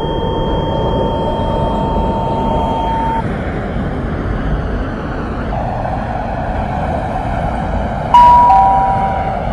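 A Delta Line train in a Roblox game sits at the platform, then pulls away. A steady electric motor hum shifts pitch as it departs, with a brief chime-like tone near the end.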